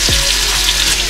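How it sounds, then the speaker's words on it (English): Wild hog pork searing as it drops into a very hot, smoking pan: a loud, close, continuous sizzle with no talking. "So you wanna drop that pork in. That's the sear I'm looking for."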